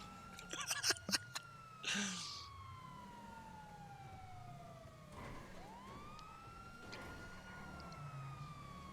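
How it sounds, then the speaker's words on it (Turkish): Police siren from a GTA roleplay game: a faint, steady tone sweeps slowly through the clip behind low engine rumble, with a few short sharp sounds at the start. "Çok rahatsız ediyor Siren... Çok rahatsız ediyor."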